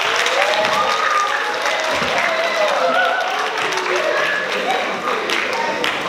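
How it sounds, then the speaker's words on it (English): Audience applause filling a school debate hall after the first opposition speaker is introduced, steady dense clapping that holds loud and even throughout with scattered voices and cheers mixed in. "Round of applause, please."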